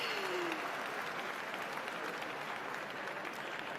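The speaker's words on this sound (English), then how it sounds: "let's give him another round of applause" An audience at an Israeli Independence Day celebration applauds steadily, a soft, even wash of clapping heard from a distance that holds at a constant level throughout.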